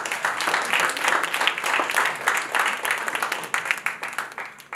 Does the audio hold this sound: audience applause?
yes